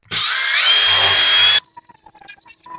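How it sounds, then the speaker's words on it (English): A power drill fitted with a scrub brush attachment whirs loudly for about a second and a half while scrubbing a vintage faux bamboo desk, then cuts off abruptly, leaving faint scattered rustling and small knocks. "coming in with my fun drill attachment"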